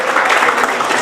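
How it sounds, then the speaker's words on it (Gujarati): An audience claps together in a dense, steady burst of applause, crowded hand claps sustained across the whole moment with no speech on top. "તો બધા એકવાર આપણે ઊભા થઈને એ લોકો માટે તાળીઓથી વધારી દઈએ"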